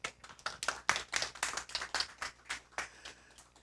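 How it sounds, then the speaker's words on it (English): A small audience at a book talk gives a short round of applause, a handful of distinct, fairly faint claps in a loose, uneven rhythm. "A round of applause."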